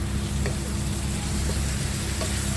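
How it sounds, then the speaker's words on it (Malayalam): Chopped tomatoes sizzle in hot oil in a pan while a spinach and potato curry cooks, a steady close frying hiss with a few faint stirring clicks and no voices. "ഇനി തക്കാളി ചേർത്തിട്ട് നന്നായിട്ടൊന്ന് വഴറ്റുക."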